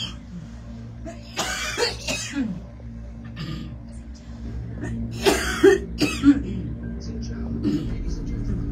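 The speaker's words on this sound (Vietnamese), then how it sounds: "Tại mẹ làm con ho." A child coughing outdoors while climbing stone steps toward a pagoda on a mountain, several harsh bursts clustered in two groups over a steady low background hum, close to the listener, with faint talking nearby.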